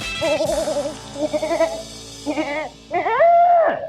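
A goat bleats several times in quick succession, wavering cries close and loud, with short gaps between calls and a longer, rising bleat at the end.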